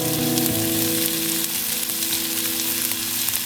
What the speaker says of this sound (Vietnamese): Cho số hành tím băm vào phi thơm.